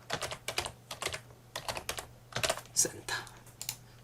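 Computer keyboard typing while building a virtual world in ZEPETO Build It, with a run of quick, irregular key presses for a Shift and Windows+S shortcut, close and clear over a low steady hum.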